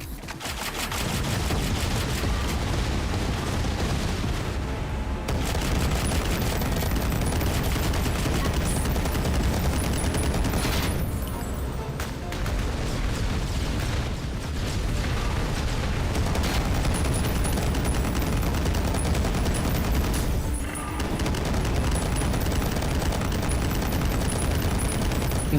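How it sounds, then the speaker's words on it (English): Dense gunfire and grenade explosions in the first-person shooter Ion Fury, loud, continuous rapid fire with booms, only brief gaps over about 25 seconds. "It's because they're grenades."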